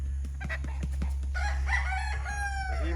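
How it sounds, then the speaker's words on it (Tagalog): Hens cluck and peck in short bursts in the provincial countryside of Cavinti, Laguna, then a rooster crows loudly nearby over a constant low mechanical hum. "Daming manok."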